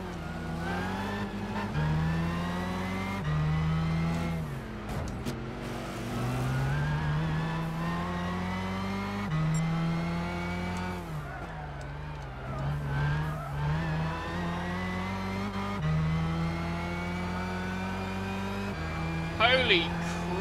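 A race car engine in Gran Turismo 6, during a 15-minute race, howls loudly and continuously. Its pitch climbs steadily, drops sharply at each gear change and climbs again in a repeating cycle, with a brief tyre squeal near the end.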